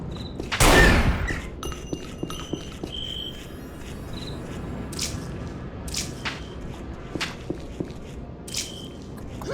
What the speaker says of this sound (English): And they shoot acid at you.